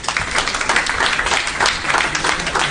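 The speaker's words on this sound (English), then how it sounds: "A big round of applause." Audience at a design event applauding steadily throughout, a dense, even spread of clapping heard close and fairly loud.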